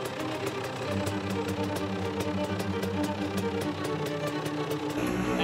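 KTM SX250 two-stroke dirt bike engine running badly, a rough, uneven knocking idle with steady repetitive pulses, close and continuous with no talk.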